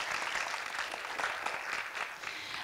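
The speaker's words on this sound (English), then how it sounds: "let's give them one more round of applause" An audience applauds the students of a Poetry Out Loud competition, steady scattered clapping heard faintly and at a distance for a few seconds, with no voices over it.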